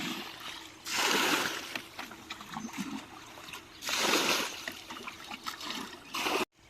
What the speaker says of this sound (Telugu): మన వాళ్ళు తోడడం మొదలెట్టారు